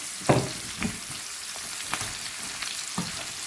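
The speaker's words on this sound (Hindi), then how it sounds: "चिकन को मिक्स कर लेंगे इस तरह से" Chicken pieces being stirred in a frying pan for Korean sweet and sour chicken, with a soft sizzle underneath and a few sharp scrapes and clinks of the spatula against the pan, quiet and close.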